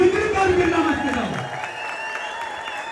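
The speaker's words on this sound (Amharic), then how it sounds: "እልል ብለን አንዴ እስኪ ድብልቅልቅ አድርገን እናመስግነው" A crowd ululates with a high wavering trill over a dense wash of applause and cheering, strong at first and then easing off while clapping continues.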